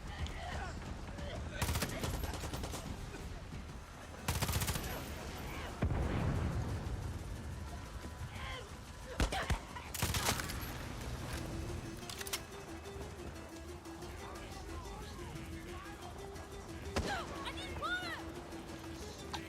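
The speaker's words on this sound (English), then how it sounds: "Damn it, who's shooting at me?" Bursts of gunfire in the video game Far Cry 6 hit in loud, close volleys separated by short gaps, with sharp individual shots and rapid fusillades, over a low game ambience.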